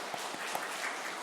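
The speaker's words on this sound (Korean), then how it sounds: "한번 일어나서 우리 박수하겠습니다" A church congregation applauds during a 50th-anniversary Sunday worship service: a brief, faint patter of many hands clapping in a large room.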